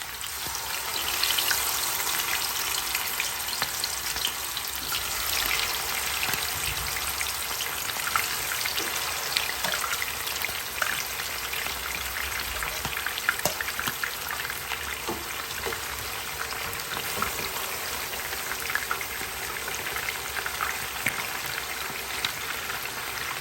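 Catfish pieces fry in hot oil for a stew, a steady dense crackle and spitting sizzle that continues evenly and fairly quietly throughout with no talking.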